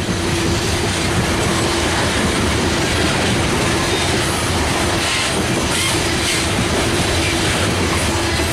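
A Norfolk Southern freight train led by an EMD SD40-2 locomotive rumbles past close by, with a continuous heavy roar, rhythmic wheel clatter and a faint steady tonal hum, with no talking.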